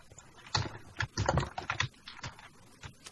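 Rapid bursts of computer keyboard typing during an Egg Wars game session, close and fairly quiet, with clustered key clicks separated by short pauses.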